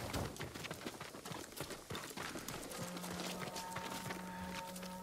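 Horse hooves clip-clopping at a steady walking rhythm, close by, in the video game Ghost of Tsushima, with a low musical tone coming in partway through.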